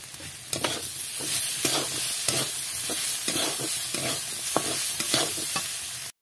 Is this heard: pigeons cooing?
no